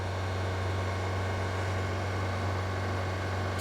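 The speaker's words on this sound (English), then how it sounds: "if we rev this, just give it some throttle here" Honda Element engine held at high revs under throttle, giving a steady, even droning hum with a low tonal buzz and no talking.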